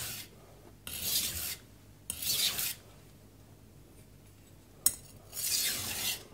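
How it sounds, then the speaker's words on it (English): A knife bevel rasps across a coarse 180 grit Suehiro Debado whetstone in four distinct strokes, each a gritty scraping sweep separated by quiet pauses, close and clear with no talk. "So let's just even out the bevel here a little bit."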